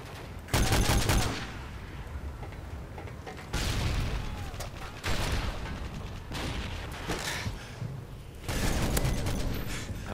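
Gunfire in Call of Duty: Modern Warfare 3 multiplayer: dense bursts of rapid automatic shots and blasts come in loud waves, with brief lulls between volleys.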